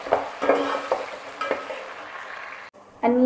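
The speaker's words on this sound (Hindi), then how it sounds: "अब हमने इसी ऑयल में अनियन डालना है और इसे भी हमने अच्छे से फ्राई करना है" Onions frying in oil for a smoky capsicum keema, giving a loud crackling sizzle broken by several sharp stirring scrapes, with a brief drop near the end before the sizzle returns.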